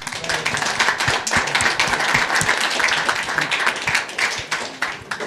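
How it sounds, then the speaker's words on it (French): A conference audience claps after a presentation on death microinsurance with a mobile operator, with sharp individual claps in a steady, moderately loud burst lasting about five seconds. "Je crois qu'on peut vous applaudir encore une fois"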